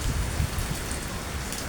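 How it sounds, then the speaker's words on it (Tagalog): Heavy rain pouring down in Pampanga, Philippines: a dense, steady hiss of rainfall striking surfaces close by, with scattered heavier drops and no talk. "lakas ng ulan dito."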